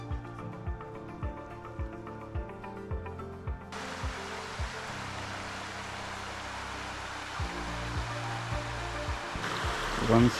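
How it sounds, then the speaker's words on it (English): Stream water rushing at a forest track crossing in Tararua Forest Park, a constant broadband roar that grows louder partway through, with a quiet piano melody underneath. "One stream crossing on this trip."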